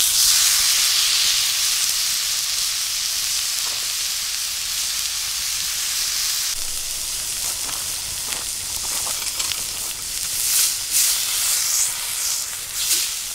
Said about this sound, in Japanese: じゃあお肉の方に焼き目をつけていきます